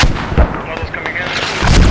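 Booming mortar and artillery fire from the military video game Squad rolls through a dense, loud stretch of low rumbling blasts, with a voice speaking partly underneath.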